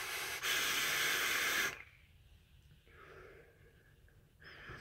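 A loud, breathy hiss of vapour being exhaled after a puff on an RDA vape, lasting under two seconds, followed by quieter breathing and faint soft sounds.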